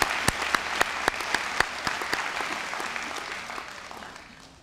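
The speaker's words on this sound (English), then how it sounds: "Let's give them all another round of applause." Applause at a Class of 2016 district-wide commencement ceremony, a large crowd clapping with a few loud, sharp individual claps standing out early before the sound slowly fades.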